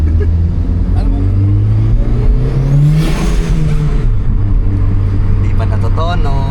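A tuned turbocharged car engine hums and revs, rising once in pitch midway, heard close under people talking over it.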